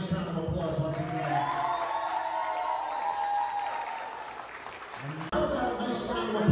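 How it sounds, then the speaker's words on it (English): Sustained applause and crowd noise at a sweet sixteen party fill the room for several seconds, mixed with a voice talking over it. "give her a nice round of applause once again"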